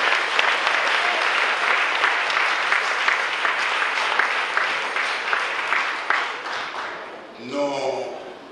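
A crowd applauds with steady, dense clapping for about seven seconds that gradually fades, and then a voice starts speaking.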